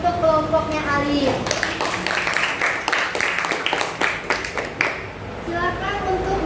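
A classroom of pupils claps for a student group after its presentation, a mass of overlapping hand claps with children's voices and chatter mixed in, lasting several seconds before talk resumes.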